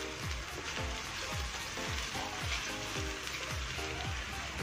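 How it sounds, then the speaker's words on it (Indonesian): Tuna rendang sizzles in a pan while being stirred gently, a steady bright frying hiss punctuated by regular soft scraping strokes of the spatula, close and alone without talk. "Kita aduk pelan-pelan, jangan sampai ikannya patah atau rusak."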